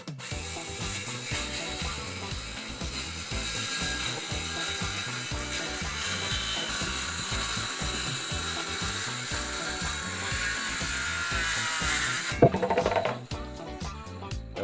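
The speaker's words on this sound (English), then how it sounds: "About to cut the table up, man." A power saw cuts up a wooden table: a loud, steady, rhythmic grinding buzz runs continuously for most of the clip, then breaks off near the end with a few jolting clatters.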